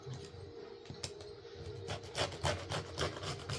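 A blade scrapes and rasps across the top of a small wooden tic-tac-toe game piece in short, uneven strokes that build into a quick rhythmic series, close and quiet.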